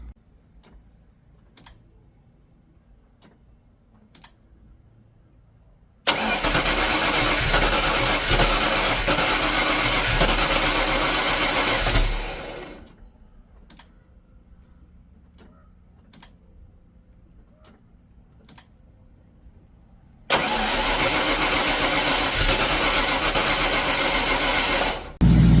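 A 1986 Ford Mustang GT T-top Foxbody cranks and fires up twice, each time settling into a loud, steady running engine for several seconds before shutting off, with faint clicks and knocks in the quiet gaps between.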